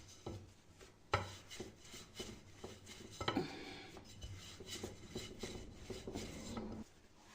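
A rolling pin rubs and knocks across a floured surface as gözleme dough is rolled out, soft scraping strokes with occasional wooden taps, close and fairly quiet.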